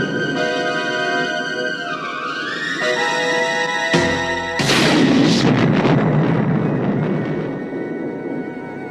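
A bazooka fires in an action movie scene, a sharp blast near the four-second mark followed by a loud, roaring explosion that rumbles and decays over the next few seconds above a sustained musical score.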